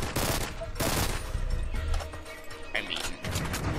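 Rapid automatic gunfire from a wave-based shooter video game rattles in dense, repeated bursts, loud and close, with a voice talking over parts of it.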